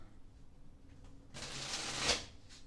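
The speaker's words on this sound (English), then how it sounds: "I'm going to give this deck one more shuffle." A tarot deck riffled in one brisk shuffle, a short crisp flutter rising to a snap, close and fairly quiet.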